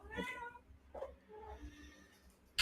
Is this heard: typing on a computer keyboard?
no